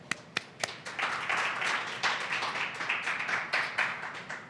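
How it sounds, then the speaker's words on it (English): Applause from an audience welcoming a speaker: a few sharp separate claps open it, then dense steady clapping continues to the end. "So let's give her a round of warm applause so that she can tell us her stories."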